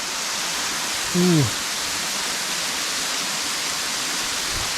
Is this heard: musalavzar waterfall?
yes